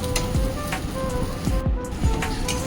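Soybean chunks frying in hot oil for chili soybean, a steady close sizzle with intermittent pops and spatters throughout, no voice heard.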